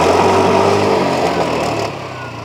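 TVS Jupiter scooter engine idling just after starting, a loud, close, steady low hum with a faint easing near the end and no talking.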